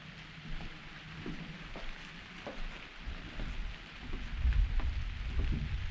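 Rain beginning to fall on a 1997 Sumerset 20 x 93 custom-built houseboat on Norris Lake, Tennessee, a steady soft patter with low rumbling wind or water noise that swells louder toward the end, with no talking.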